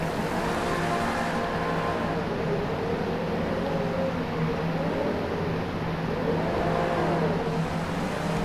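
An Aston Martin-based prototype car in GTA 5 Online hums with a steady engine drone that rises and falls in pitch as it revs, held at a constant loud level without talk.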